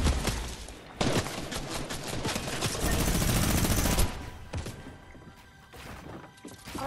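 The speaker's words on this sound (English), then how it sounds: "Stop shooting me!" Rapid, dense volleys of automatic gunfire from a battle royale video game, loud and nearly continuous, with bursts overlapping and a brief lull before another heavy stretch of shooting.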